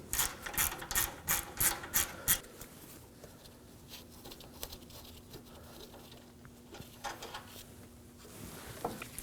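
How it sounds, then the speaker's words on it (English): A ratchet with a 10mm socket clicks in quick bursts of rapid ticks while breaking loose a bolt on an Acura MDX AC condenser, followed by quieter mechanical fiddling and faint tool sounds close by. "we're gonna be using a 10mm socket and we're gonna be removing that 10mm bolt."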